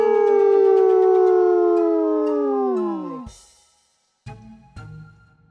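A voice imitates a long howl, a sustained wavering tone that slides down and fades, followed by a couple of short knocks.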